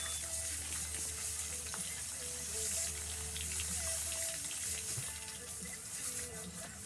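A garden hose sprays water mixed with SuperClean degreaser over an antique chainsaw, a steady close hiss and splatter that runs without a break, with faint rattles of droplets hitting metal and no one talking.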